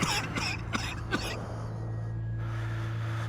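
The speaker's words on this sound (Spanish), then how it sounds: "con la puta tos." A short burst of several harsh coughs and throat-clearing sounds, close and fairly loud at first, then trailing off into a steady low hum.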